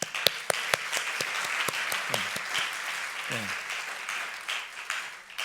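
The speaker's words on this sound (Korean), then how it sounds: "우리 감사의 박수 한번 하겠습니다." A congregation at an Easter chapel service gives a round of thanks for the choir, with sharp separate claps at first building into a softer spread of applause, and a voice briefly speaking over it.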